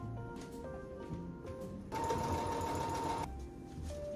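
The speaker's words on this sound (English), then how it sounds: "Now we are going to sew this part here, the bottom, the line, and see how it fits" A sewing machine stitches the bottom hem line of a cotton skort in one steady, loud burst of rapid motor-driven running, with quieter background machine noise and faint handling sounds before and after it.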